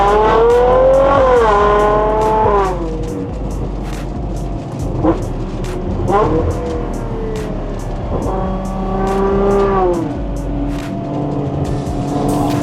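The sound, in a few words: Ferrari Purosangue revving, Novitec exhaust valves open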